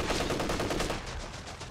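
Dense machine gun fire from the Company of Heroes 3 war strategy game, a loud continuous rattle of rapid shots that eases off slightly toward the end, with no voices over it.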